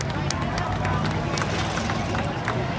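Crowd at a county fair demolition derby applauding and cheering, a dense continuous roar of clapping and voices filling the whole stretch at steady loudness.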